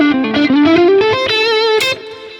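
A distorted guitar through reverb, ping-pong delay and a ducker effect plays rising and sliding notes, with echoes bouncing and washing into a reverberant tail.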